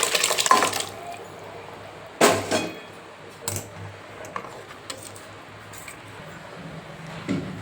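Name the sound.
cooking water poured into masala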